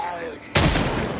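A gunshot in the zombie survival game Project Zomboid goes off with one sudden loud blast midway, and its broad ringing decay fills the rest of the moment.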